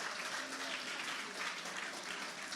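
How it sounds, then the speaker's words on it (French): Faint, distant audience applause at a talk show on sexuality, an even wash of many hands clapping steadily for a few seconds with no voices over it. "On peut applaudir."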